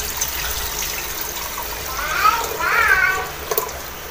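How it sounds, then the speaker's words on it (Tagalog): Water pours into a pressure cooker holding pork kasim for a home-cooked nilaga, a short gushing fill that swells midway through under steady background noise, with a voice talking over it. "Lalagyan na natin ng tubig."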